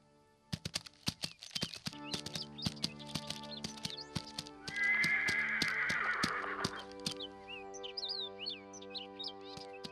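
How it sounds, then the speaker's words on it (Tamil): A horse's hooves clip-clop in a steady, fairly close rhythm, joined midway by a long bright neigh, while birds chirp and tweet throughout in the background. "ஒரு நாள் குதிரையில் சென்று கொண்டிருந்த பொழுது"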